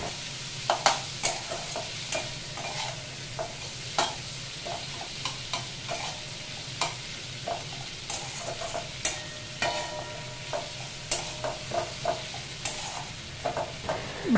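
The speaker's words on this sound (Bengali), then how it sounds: "এবার সমস্ত কিছু ভালো করে নেড়ে চেড়ে কষিয়ে নেব।" Onions and spices for a Bengali boiled-egg mash are stirred and sautéed in a pan, a steady sizzle of frying beneath repeated scraping and clinking strokes of the spoon, close and continuous with no talk.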